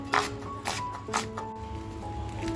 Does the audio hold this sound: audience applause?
no